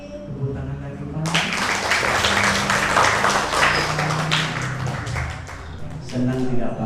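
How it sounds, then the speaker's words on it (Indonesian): Applause from a gathered audience at an Islamic Maulid sermon bursts in after a man's speech and carries on for several seconds, dense and fairly loud, before his voice returns near the end. "Tepuk tangan lagi Pak."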